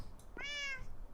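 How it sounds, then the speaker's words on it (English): A cat, likely in a Minecraft game setting, gives one short, clear meow close to the listener, rising and falling over about half a second against faint background noise. "A cat."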